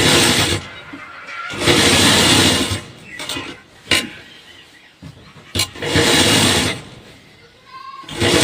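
A sewing machine stitches fabric in bursts, loud whirring runs starting and stopping several times with short pauses between, close to the microphone.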